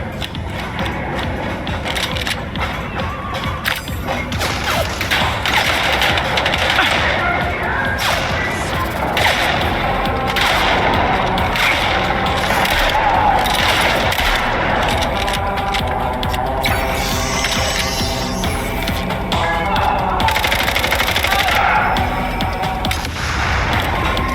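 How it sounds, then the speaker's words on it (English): Rapid submachine gun fire in the video game MindsEye, dense bursts of shots with mechanical clicks and rattles running steadily and loudly throughout, no talking. "SMG."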